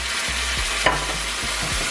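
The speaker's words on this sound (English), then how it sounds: "Stir that together." Chicken and shrimp chop suey with soy and mushroom sauce stirred in a hot pan, a constant close sizzle broken by rhythmic scraping strokes and one sharp knock of the utensil.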